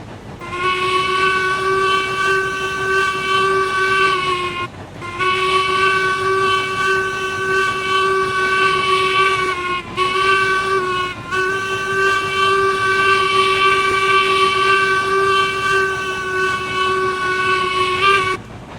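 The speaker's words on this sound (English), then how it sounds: "Let's go ahead and blow that whistle for the crossing." Locomotive steam whistle in the Railroads Online train game, sounded for a road crossing: three long, loud, harmonically rich blasts with brief gaps, heard alone.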